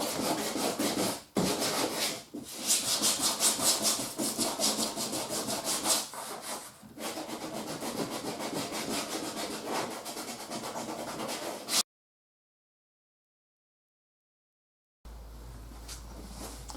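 A kayak keel is sanded lightly by hand, producing continuous close scratchy rubbing strokes with brief pauses, then a stretch of silence and a faint low hum at the end.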